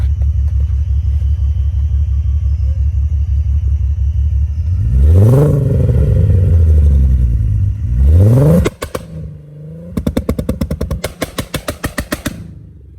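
A tuned VW Mk4 VR6 12v idles with a low rumble, then revs hard twice on a rolling two-step limiter, crackling and popping as it throws flames, followed by a rapid burst of sharp limiter pops near the end, loud and close.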